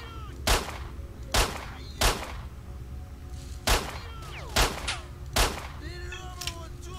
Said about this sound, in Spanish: Ah, es muy realista con los disparos